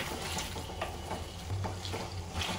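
Potatoes and fenugreek leaves frying in a pan give a soft, steady sizzle, while a spoon scrapes and stirs in repeated strokes close by.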